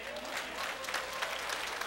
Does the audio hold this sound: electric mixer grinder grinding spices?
no